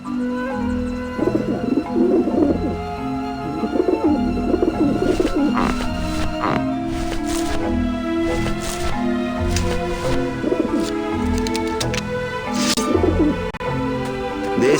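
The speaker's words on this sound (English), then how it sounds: "Run, you pigeons!" A crowd of pigeons coos and burbles in the video game Grim Fandango, throaty calls rising in bursts over continuous background music at close, loud range.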